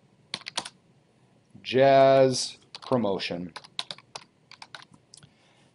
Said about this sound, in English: thank you all for not laughing too loud at my slow typing and finger pecking